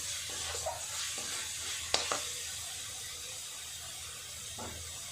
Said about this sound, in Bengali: মিনিট 5 ধরে এইভাবে মশলাটাকে কষিয়ে নিতে হবে।